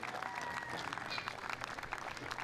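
A crowd applauds the 7U district champions at the Mountainside opening day parade, a steady, dense wash of clapping outdoors that holds evenly throughout.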